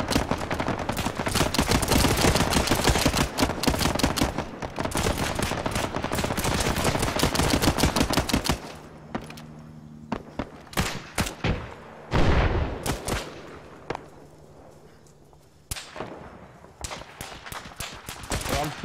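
Sustained heavy automatic gunfire from an Arma 3 firefight on Tanoa, a loud continuous barrage that thins into scattered separate shots and faint distant cracks, with a low steady hum underneath.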